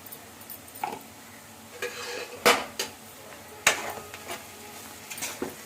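A spoon stirs a broad beans curry seasoned with turmeric and salt in a metal pot, giving sharp clanks and scrapes against the sides over a soft sizzle, a handful of loud knocks spread irregularly with no voices.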